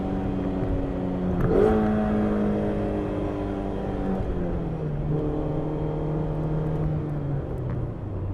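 Mazda MX-5 ND engine fitted with a CleaR Motorsport sound tube, steady harmonic drone that dips and rises again through a downshift, heard close and continuous with no talking.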